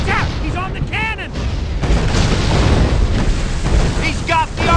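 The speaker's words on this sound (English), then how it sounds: "Don't let them keelboats get too close! Those cannons are tearing so far!" Cannons firing from keelboats in a video game battle on the water, heavy booming blasts and rolling rumble filling the scene while voices shout over the din.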